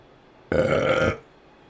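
A single loud, close burp lasting about two-thirds of a second, rising abruptly and fading, heard alone against a quiet room during miniature painting.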